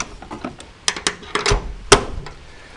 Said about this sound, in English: oh, gotta lock the door.